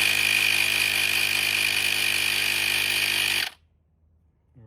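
An electric tire pump inflates a kids bike tire, its motor giving a loud, steady, high buzzing drone close by for about three and a half seconds before cutting off abruptly into near silence.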